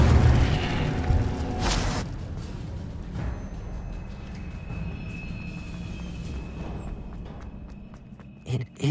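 Incendio fire spell cast in Hogwarts Legacy, a heavy booming burst at the start that fades into a rumbling, crackling tail, followed by faint footsteps and a soft thud near the end.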